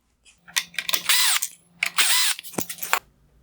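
Power drill driving out Phillips screws to remove the turn signal reflector from a 2018-2019 Hyundai Sonata OEM LED headlight, two sustained whirring bursts with a shorter final burst, close and alone.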